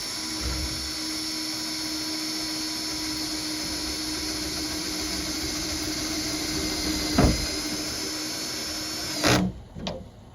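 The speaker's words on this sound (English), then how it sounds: "I still gotta drill a hole for the wire and pull it through" A power drill whines steadily at high pitch for several seconds, drilling a wire hole during a solar panel installation, with a couple of knocks before it stops abruptly near the end.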